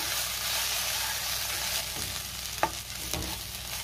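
Okra bhaji with chopped coriander, sesame, coconut and peanut powder sizzles loudly in a pan, with a continuous frying hiss and a couple of soft scrapes from a stirring spoon near the end.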